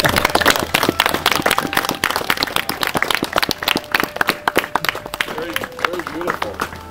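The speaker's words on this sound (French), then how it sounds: "On doit applaudir à ce moment." Audience clapping at a veterans' medal ceremony held by the commune of Le Tronquay, with sustained scattered applause throughout and voices mixed in underneath.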